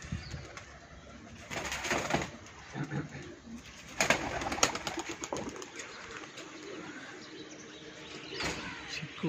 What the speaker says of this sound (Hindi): कबूतर उड़ गए ने